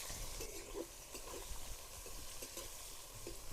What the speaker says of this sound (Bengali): এবার ওই তেলের মধ্যে দিয়ে দিব হচ্ছে পেঁয়াজ কুচি